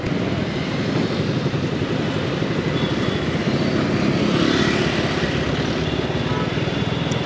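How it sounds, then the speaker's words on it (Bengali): A vehicle engine, freshly changed to full synthetic oil, runs with a steady, loud, continuous drone throughout, with no breaks or changes in pace. "ইঞ্জিন অয়েলটা চেঞ্জ করার পর ফুল সিনথেটিক যখন মানে কালকে নিলাম, এরপর থেকে সাউন্ডটাও ডিফারেন্ট ইঞ্জিনের"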